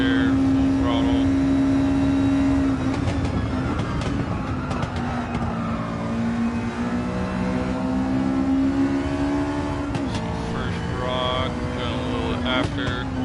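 A race car engine at full throttle in Gran Turismo 7 on Trial Mountain, tuned to 500PP: a loud, sustained howl that climbs and drops through a few gear shifts, with a voice talking over it.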